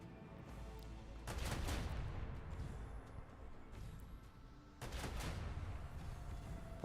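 Macro cannons firing from a starship in Rogue Trader, two heavy volleys of booming salvos a few seconds apart, each swelling into a rumbling roll over a steady low background.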